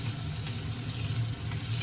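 Onion fries in a pan for a mushroom masala gravy, giving a dense, even sizzle with a low bubbling undertone and no pauses.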